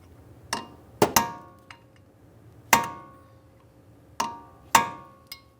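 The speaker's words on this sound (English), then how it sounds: "We'll continue with our hammer and punch, drive this down and in." Sharp metal-on-metal blows ring out as a hammer drives a punch against the axle nut on a 2006-2012 Ford Fusion, about seven close strikes in uneven bursts, each decaying quickly, with nobody speaking.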